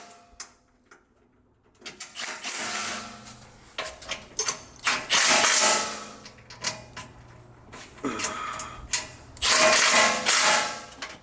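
Rivet nut tool setting 1/2-inch-13 nut certs into the bottom of a Lexus LX 570 frame, heard as repeated close bursts of mechanical clicking and ratcheting with short pauses between.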